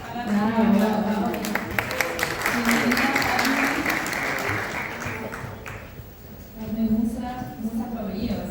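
Crowd at a communications week event claps as a speaker takes the stage, a sustained burst of applause that thins toward the end while presenters talk over it.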